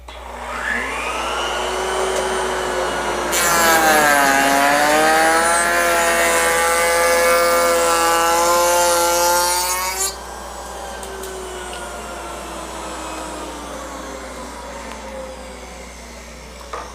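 A router cuts a wood panel for crown and arch raised panel doors. The motor whines steadily throughout, turning louder and harsher for about seven seconds during the cut, then settles back to a lighter hum.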